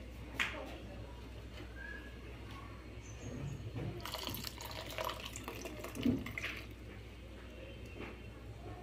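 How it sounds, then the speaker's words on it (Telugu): Boiled, cooled milk poured into melted sugar in a pan, a soft, continuous liquid trickle and splash with a few louder sloshes, fairly faint against a low background hum. "పంచదార కరిగినాక కొద్దిగా కాచి చల్లార్చిన పాలు కొన్ని పోసుకోవాలి,"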